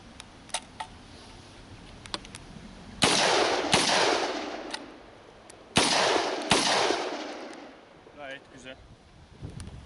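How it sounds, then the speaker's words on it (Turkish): Makarov pistol fired outdoors during a mud durability test: two loud, sharp reports with ringing decay stand out over a quiet background, with small clicks and handling noises around them. "Makarov silahları test ettik"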